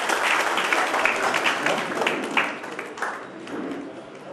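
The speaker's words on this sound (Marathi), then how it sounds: "एकदा टाळ्या जोरदार त्याच्याकडे आपण देऊया जरा." Audience at an awards ceremony gives a burst of vigorous applause, dense crowd clapping that stays steady and full before easing slightly toward the end.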